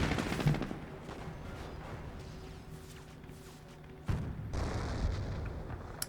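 In Company of Heroes, a Calliope rocket barrage pounds away with gunfire, a rolling wash of distant blasts and crackling shots that swells into a louder burst near the end.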